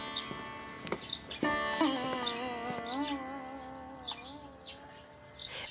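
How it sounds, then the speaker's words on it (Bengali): Birds chirp and call at dawn in a cartoon scene, with layered tweets and a long wavering whistled song line over a steady background, fairly close and clear, with no talking. "রাত কেটে যায়, পাখির ডাক শোনা যায়।"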